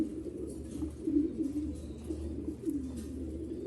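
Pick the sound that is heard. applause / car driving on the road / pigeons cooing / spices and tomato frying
pigeons cooing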